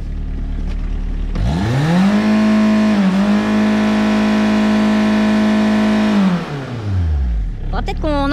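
A Peugeot 306 diesel engine is revved hard at full throttle, climbing to a loud, steady, droning roar held for several seconds, then dropping back toward idle.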